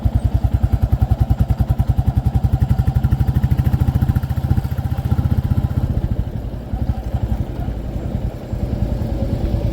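A motorcycle engine thuds loudly and steadily up close while riding on an unpaved road beside the Delhi-Katra Expressway construction in Punjab, its rapid pulsing beat dipping briefly before picking back up.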